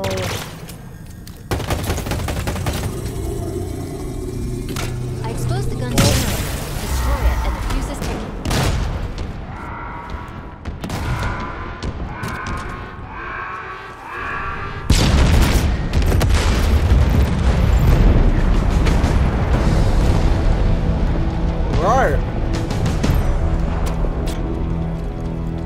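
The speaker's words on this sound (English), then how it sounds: "Give you guys the explosion." Gunfire and explosions in the Halo video game, sustained bursts of rapid automatic fire mixed with heavy booms, loud and dense across the whole stretch with a brief lull before intensifying again.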